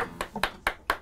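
A few sharp hand claps, about five in a second, ring out close and fairly quiet, sounding more like one or two people than a full crowd during a music jam session.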